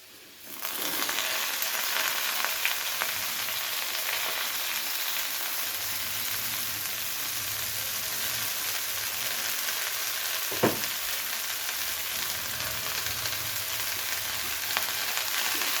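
Bottle gourd greens dropped into a pan of potatoes already fried red, setting off a steady loud sizzle and crackle that runs throughout, with one sharp knock of a utensil near the middle.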